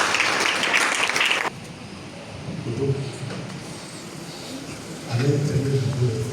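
A church congregation at a French-language prophecy and deliverance service bursts into loud, dense applause that stops abruptly, followed by quieter room noise and voices.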